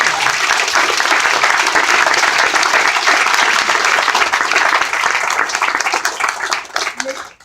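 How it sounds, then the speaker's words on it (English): Warm audience applause for a fundraiser being honored at a rare disease awareness event, a loud dense mass of clapping hands that holds steady, then thins and tapers off near the end. "Let's give a round of applause to Michelle"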